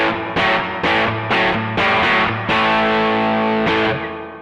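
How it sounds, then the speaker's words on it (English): Distorted electric guitar played through a TC Electronic Arena reverb pedal set for a dirty ambient reverb, loud repeated strummed chords on a steady beat, each wash blooming and smearing into a long sustained tail. "It's a lot of reverb."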